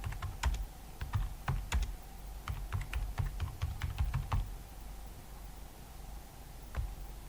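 Keys clack on a computer keyboard in a quick burst of close, crisp taps while a chmod command is entered, then a pause, a final keystroke, and faint background hiss.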